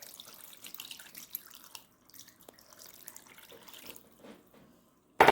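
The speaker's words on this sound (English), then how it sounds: "So I'm going to add 3 cups of water onto all this." Water pours and splashes unevenly into a cooking pot, trickling and gurgling, then stops briefly before a short louder splash at the end.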